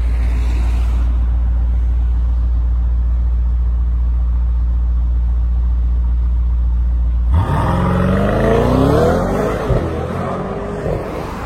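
A Mercedes-AMG GT four-door car idles with a deep steady rumble, then suddenly roars as it accelerates hard, the engine revving up and pulling away loudly.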